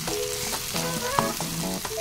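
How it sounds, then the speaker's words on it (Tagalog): Dried shrimp sautéed with garlic, tomato and onion hiss loudly and continuously in a pan, while a spatula scrapes and knocks close by in quick, repeated strokes. "Pwede na natin ihalo ang ating hipon sa ating ginisang bawang, kamatis at sibuyas."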